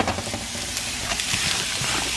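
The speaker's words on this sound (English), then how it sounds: "And I'm going to put my onions in there." Chopped onions frying in a tablespoon of hot oil in a pan, a steady close sizzle and hiss that swells slightly as they settle, with faint scraping underneath.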